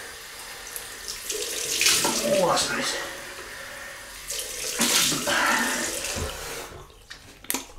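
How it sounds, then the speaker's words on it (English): Cold water running from a bathroom tap to rinse a stainless steel double-edge razor, two strong bursts of splashing flow with quieter trickling between, and a person briefly speaking. "Cold water rinse"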